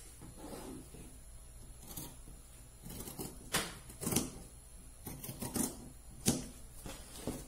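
Scissors cutting through two stacked layers of fabric, a main fabric and a lining, for a 3D face mask: irregular crisp snips and rustles, close and fairly quiet, with no talking.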